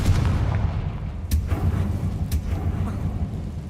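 Confringo blasting spell explosion in Hogwarts Legacy: two sharp booming blasts about a second apart over a dense rumbling game soundscape, loud and close.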